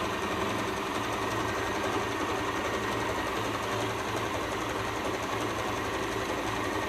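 An Usha Janome Stitch Magic sewing machine stitches at a fast, steady pace, making a loud, continuous mechanical whir with no pauses and no voices.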